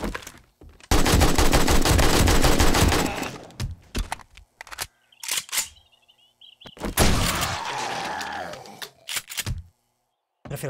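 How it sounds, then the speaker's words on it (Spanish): Machine gun fire in the video game 7 Days to Die: a loud sustained burst of rapid shots, then scattered single cracks and a second long burst, with brief silences between. "la ametralladora suena de más"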